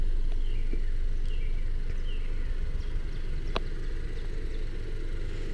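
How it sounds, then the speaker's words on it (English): The small four-cylinder engine of a 2018 Honda CR-V EX-L idles steadily with a low, even rumble, with faint chirps and a brief clack over the top. "just sounds like a normal small four cylinder engine"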